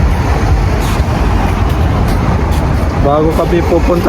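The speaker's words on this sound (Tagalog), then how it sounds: "Ayan, traffic ulit" Steady road traffic noise from a car ride in heavy traffic, a dense continuous rumble of engines and tires with broadband wash throughout, and a brief tonal sound near the end.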